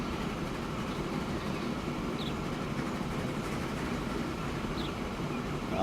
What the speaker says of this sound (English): Passenger train.